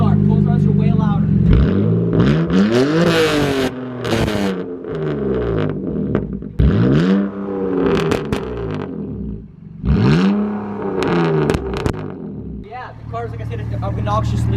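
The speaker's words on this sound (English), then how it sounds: "this is a BMW 330i E46. It's a muffler and resonator delete" A loud, raspy straight-piped BMW 330i E46 engine with muffler and resonator deleted revs hard again and again, each blip climbing and falling in pitch, with a rough idle between pulls.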